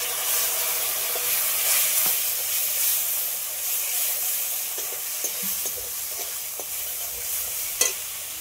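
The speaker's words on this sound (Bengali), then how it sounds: "এই সময় দিয়ে দিচ্ছি বেটে রাখা মশলা" Ground spice paste frying in oil with softened tomato and turmeric, a steady close sizzle and hiss with scattered scraping stirs and small pops throughout, and no talking.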